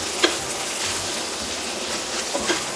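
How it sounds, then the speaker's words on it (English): Meat and vegetables for shepherd's pie are stirred in a frying pan, giving a steady sizzle broken by a couple of soft clicks from the spoon, close up with no voices. "Give it a good mix."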